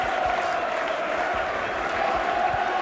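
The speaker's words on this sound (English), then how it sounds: "sportingly applaud their Halifax players as they come down after collecting their losers' medals" Rugby league crowd applauding Halifax players as they come down after collecting losers' medals at a championship final, a steady, dense wash of clapping and crowd noise throughout with no pauses.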